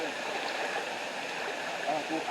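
River water rushing steadily through the hills of Portland, Jamaica, a continuous broadband stream wash at moderate level with faint gurgles throughout.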